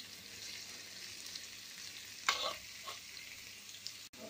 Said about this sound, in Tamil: நம்ம இந்த எண்ணெயிலேயும் நல்லா மொறுமொறுன்னு வர்ற அளவுக்கு சேனக்கிழங்கை வறுத்துக்கலாம்.